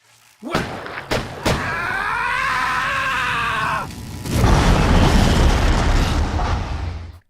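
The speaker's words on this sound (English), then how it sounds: "Aunt May returns, gun in hand, and guns down Electro" Aunt May gunning down Electro in a Spider-Man film, a few sharp loud gunshot bangs near the start, then a sustained warbling electrical tone and a loud rushing burst of noise.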